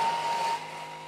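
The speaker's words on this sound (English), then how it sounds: "I'm blending this for 15 seconds at speed 6 to create a paste." A thermal cooker blender whirs steadily as it blends Panang curry paste at speed 6, a close, loud broadband roar that drops to a lower hum about halfway through.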